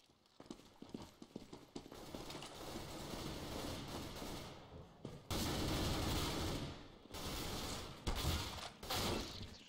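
Rapid bursts and volleys of gunfire from a Counter-Strike: Global Offensive match against bots crackle through dense, noisy game ambience, with quieter rattles in between.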